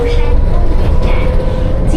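A light rail tram in Taiwan runs toward the Neiwei Arts Center, with a steady loud rumble and the hum of the car throughout.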